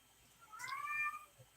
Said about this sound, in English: Do you hear my cat?